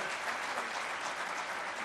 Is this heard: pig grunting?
no